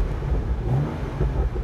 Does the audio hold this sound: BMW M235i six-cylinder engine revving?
yes